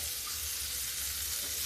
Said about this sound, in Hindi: तो इसको मैं इसमें देर तक फ्राई करूँगी, थोड़ा सा लाल आ जाए तो अच्छा लगेगा